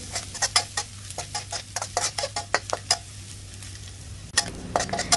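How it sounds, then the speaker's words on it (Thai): Garlic fries in a little oil in a pan for Thai pork rice soup. Close, rapid scraping and tapping stir strokes sound over a soft sizzle, with a pause before a final flurry. "ตั้งกระทะใส่น้ำมันลงไปเล็กน้อยจากนั้นก็ใส่กระเทียมลงไปเจียวค่ะ"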